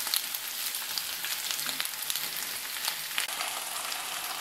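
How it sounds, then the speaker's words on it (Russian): Potatoes frying in a pan, a continuous soft hiss and crackle of sizzling oil at low, even level with occasional small pops and no talk. "Вот, картошечка у нас жарится."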